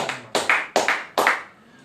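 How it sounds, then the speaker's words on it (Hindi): A group at a fitness and laughter session claps loudly in four sharp, rhythmic bursts that ring briefly before fading. "उनके लिए जरा जोरदार ताली होता है"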